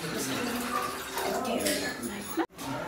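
Water is poured into a pot to make tea on a traditional countryside clay stove, a splashing flow heard under a voice, ending with a brief clunk.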